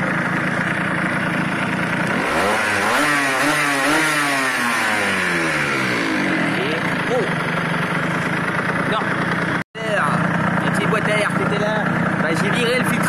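A Rieju RS1 50cc motorcycle with a 60 idle jet fitted runs close by, its small two-stroke engine revving up and down in rising and falling sweeps, then dropping to idle after a brief cut, with someone talking over it.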